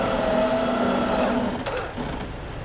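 Winch motor on a Jeep TJ, run by remote, spooling in line with a steady whirring drone that holds for about a second and a half before easing, with faint clatter near the end and no voices.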